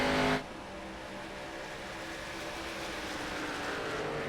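An ARCA stock car in iRacing at Pocono, its engine droning steadily as the throttle is eased in and out, with a brief louder burst at the start and a sustained engine tone after.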